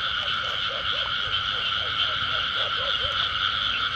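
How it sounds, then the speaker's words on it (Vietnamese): Frogs croak in a rice field at the start of the rainy season, a steady chorus of repeated short croaks over a loud, constant drone of insects or other calling frogs, with no talking. "Ếch kêu nhiều lắm nha"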